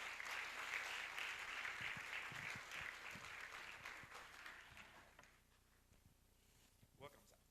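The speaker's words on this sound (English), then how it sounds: "Let's welcome him with a clap" An audience at a national financial literacy conference claps to welcome a keynote speaker. The dense, steady applause fills most of the clip, thins and fades near the end, and a voice starts speaking as it dies away.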